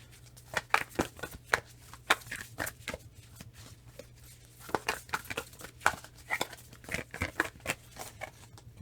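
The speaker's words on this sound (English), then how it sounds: "So I got to shuffle this a little bit." Tarot cards being shuffled by hand, a rapid run of soft papery riffles and taps repeating in irregular bursts, close and fairly quiet over a low steady hum.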